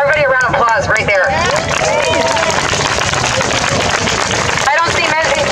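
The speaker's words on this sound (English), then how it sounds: "Everybody, a round of applause right there." A crowd at an outdoor anti-lockdown protest at Queens Park applauds and cheers, loud clapping mixed with shouts and whistles throughout, with voices calling out over it.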